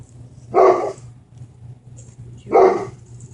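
A dog in a shop barks at a recording of itself, two sharp, loud woofs about two seconds apart, over a quiet low hum with faint high whines in between.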